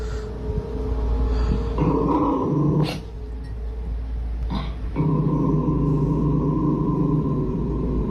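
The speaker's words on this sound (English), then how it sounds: "Dog's growling, man." A low, sustained dog growl rumbles close by, swelling and easing in a few long stretches with brief pauses between.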